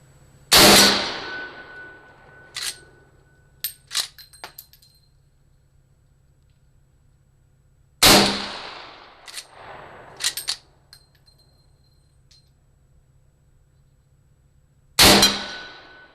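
Rifle shots from a Browning 1886 lever-action ring off steel targets outdoors in bright sun. Three loud cracks land about seven seconds apart, each followed by a metallic clang and smaller clicks of the lever cycling.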